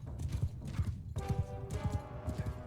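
A horse's hooves clip-clop in a quick, steady rhythm in the samurai game Shokuho, close and clear, with a whinny rising partway through.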